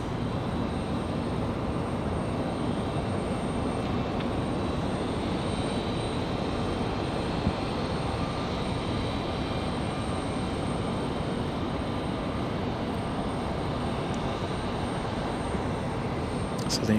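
Airplane making a low pass over Raleigh-Durham International Airport with its landing gear down, a steady broadband engine roar that holds constant throughout without other sounds.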